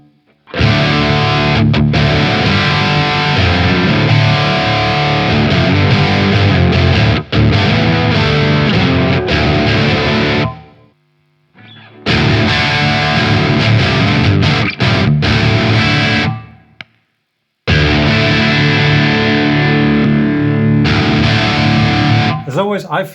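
Heavily distorted electric guitar played through a Mesa Boogie Rectifier amp patch on a Line 6 Helix, chugging dense high-gain riffs in bursts with brief pauses between phrases.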